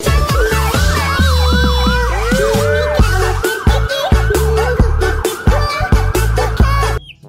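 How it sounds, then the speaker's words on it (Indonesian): A toy police car plays a loud electronic siren with rapid rising and falling wails and yelping tones, cycling continuously for several seconds before cutting off abruptly. "Wow, lihat ada mobil polisi."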